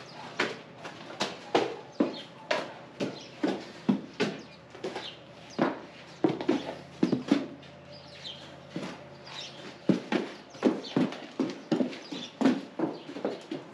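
Horses on a farm move about while grazing, their hooves clip-clopping in a steady, fairly close rhythm that runs throughout, with faint birdsong chirping in the background.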